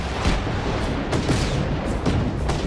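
Repeated gunfire in Just Cause 3: a string of booming shots and blasts at irregular intervals, fairly loud and mixed with rumbling low noise, no voices.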